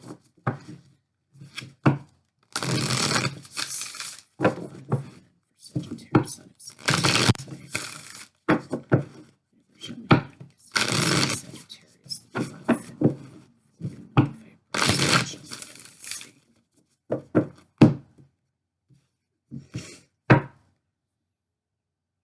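Oracle cards are shuffled and drawn in close, papery bursts of riffling and tapping, with quiet gaps between rounds of handling.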